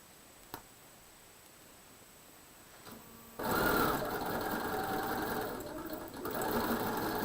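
Sewing machine stitching pieces of a quilt star block, running steadily and close after a quiet start, its motor hum and needle clatter continuing to the end with a slight surge near the finish.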